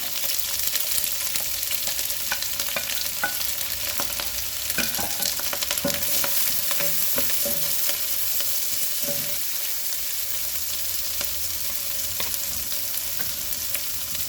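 Onions and green chillies sizzle and fry in a pan for a chicken curry, a steady close hiss with occasional stirring clinks and scrapes, no voices.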